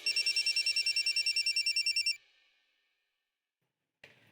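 A telephone rings in a fast, loud, regular electronic trill for about two seconds, then falls silent, with a brief faint clatter near the end.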